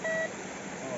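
A metal detector sweeping in water on a search gives a brief, clear electronic beep at the start, and a fainter tone returns at the very end.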